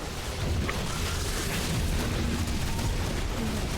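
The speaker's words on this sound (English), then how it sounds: "With so many disruptor shots, one is sufficient" Disruptor shots explode in a StarCraft 2 Protoss match, a dense, continuous roar of booming blasts and rumbling bursts that fills the whole stretch at steady loudness.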